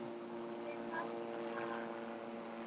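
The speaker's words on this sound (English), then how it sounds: "Helicopter zooming over" A helicopter drones overhead at a distance, a faint steady whirring hum with no clear approach or fade over the short span.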